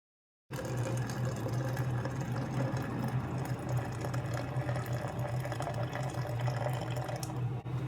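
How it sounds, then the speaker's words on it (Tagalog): Two cups of water poured into a French press for coffee, a steady close splashing stream that runs unbroken for several seconds after a silent start. "And then just pour the 2 cups of water."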